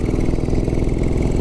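A 1944 Ariel trials motorcycle with a rigid frame, still being run in after a piston seizure, runs in top gear. Its engine makes a loud, steady, close throb with an even pulsing rhythm and no voices.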